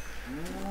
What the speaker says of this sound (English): I'm just gonna kill another cow.